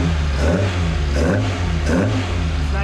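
A carbureted Toyota 4AGE engine in an AE86 revs up repeatedly over a steady idle, three rising throttle blips close and loud with no talking.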